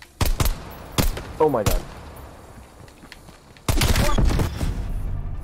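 Rifle shots in a video game ring out as sharp separate cracks early on, then a dense loud burst of fire, with a person talking between the shots.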